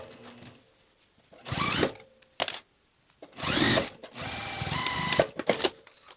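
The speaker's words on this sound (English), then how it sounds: "I'm going to start off with one and just top stitch close here to create the casing." Sewing machine top stitching close along a fabric casing on a snap pouch, with several separate whirring bursts of rapid stitching broken by short pauses and small clicks, close and clear, no talk.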